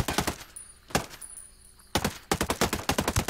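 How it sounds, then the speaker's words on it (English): Rapid automatic gunfire in Ghost Recon Breakpoint, loud close bursts of shots in quick rhythm, a short pause with two isolated shots, then another sustained burst. "I'm shooting the big guy now."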